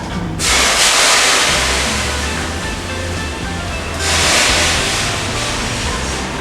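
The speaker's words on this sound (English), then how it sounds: "I'm gonna add in 1 cup of water." Water pours steadily into a pot on a stove with a continuous rushing splash, loud and close, swelling in two long pours with no talk over it.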